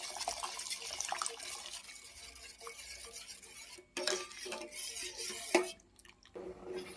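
Custard powder mixed into boiled milk being stirred in a pot for mango pudding, soft liquid swishes and spoon scrapes with a few sharp utensil clinks against the pan, close and moderately quiet, no talk.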